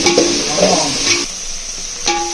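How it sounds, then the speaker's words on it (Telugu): Green chillies sizzle and fry in hot oil in a pan while chicken biryani is cooked at home, with steady crackling and a few stirring scrapes close by, no talking. "పచ్చిమిర్చి నూనెలో వేగితేనే స్మెల్ బాగుంటుంది"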